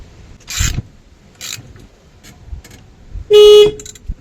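In the Old's Mobydick video game, a camper van makes a few short scraping, rubbing noises, then its horn gives one loud, steady toot near the end.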